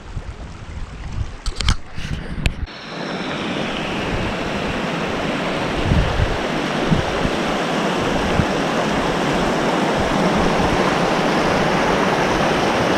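A small mountain stream flows along a hiking trail, a loud continuous broadband rush of water close by, preceded by a few seconds of clattering knocks and handling noise before the flow takes over.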